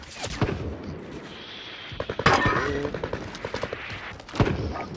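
Gunfire in the video game Warzone: rapid automatic bursts and sharp shots crackle loudly throughout, with dense overlapping reports and explosive thumps.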